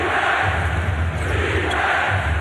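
Fans in an arena at a 2008 Magic versus Raptors playoff basketball game keep up a loud, unbroken roar of cheers and yells, a thick crowd noise that barely dips from start to finish.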